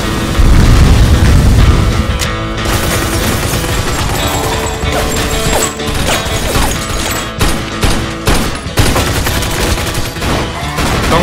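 Gunfire and explosions in the Mafia 2 video game: a loud, sustained barrage of rapid shots and heavy booms, dense and continuous throughout, with no talking over it.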